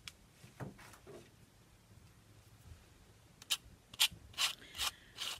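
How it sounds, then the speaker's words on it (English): A quiet stretch gives way to several short, brisk hand-sanding strokes on a resin piece, close by and growing louder, each a dry scratchy rub. "I'll have to do a little sanding here."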